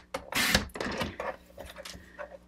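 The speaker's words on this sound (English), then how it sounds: "So I'm just cutting 1/4 inch off two sides of the cardstock." Cardstock is trimmed for a greeting card, a short, quiet scraping swish of the cut with soft paper rustles and small clicks around it, close by.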